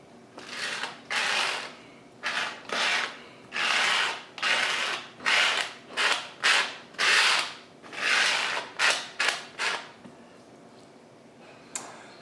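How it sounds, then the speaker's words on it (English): A tool scraped across an aquarium algae scrubber screen, shaving the algae growth toward one end in about a dozen rough, rasping strokes, each a second or less, close and alone. "is just run that across the screen. Shaving that algae down to one end."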